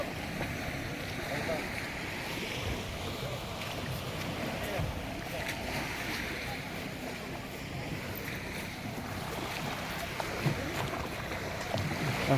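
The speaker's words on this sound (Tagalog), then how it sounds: "Sakay kami ng sakayan." A small boat moves across open sea near Balicasag Island, Panglao, Bohol, with a steady broad wash of water, wind and engine rumble filling the whole stretch, and voices talking faintly underneath.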